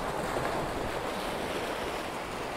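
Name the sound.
big ocean waves crashing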